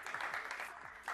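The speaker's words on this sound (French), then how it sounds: "j'aimerais que le public, on applaudisse tous les candidats, nos candidats de ce soir." Studio audience at a televised promotional game show applauding the evening's contestants, a short faint wash of clapping with a slight swell near the end.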